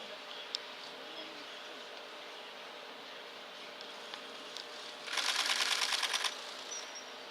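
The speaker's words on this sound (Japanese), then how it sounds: "左からしかシャッターを聞こえなかった" Rapid camera shutter bursts fire while photographing a kingfisher outdoors, a fast rattling run of clicks lasting about a second, set against steady outdoor ambience with faint insects.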